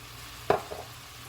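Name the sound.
stirring Cajun shrimp with garlic and onion in a pan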